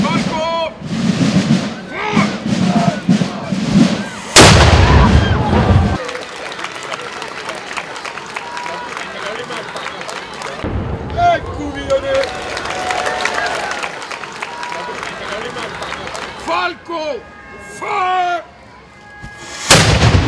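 A Falco cannon fires with one sharp, loud boom that rolls off into a decaying rumble. Crowd applause and cheering follow, and voices shout nearby before and after the shot.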